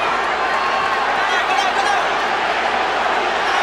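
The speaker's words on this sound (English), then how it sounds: "The crowd is at a high pitch. It's a frenzy." A packed boxing arena crowd at the Manny Pacquiao vs Antonio Margarito fight roars in a dense, unbroken wall of cheering, loud and sustained throughout, with commentary audible underneath.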